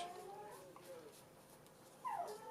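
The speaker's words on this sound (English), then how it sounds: "My dog is going crazy." An indoor pet dog whimpers softly, with faint whines throughout and one sharper rising whine near the end, quiet and somewhat distant.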